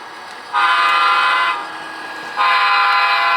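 Two loud, sustained toots from a model train horn in a home garage layout, each lasting about a second, separated by a short pause.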